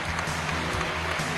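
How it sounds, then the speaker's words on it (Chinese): A studio audience at a Chinese antiques appraisal television show claps for four expert judges, a dense, even wash of applause filling the short moment. "当然最后的掌声送给昨天现场的四位专家老师"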